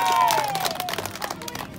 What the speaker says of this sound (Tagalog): Napalakpakan tama!